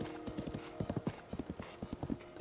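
In the video game The Legend of Zelda: Tears of the Kingdom, a horse's hooves clip-clop in a quick, even patter, with a brief tonal whinny at the start, close and clear.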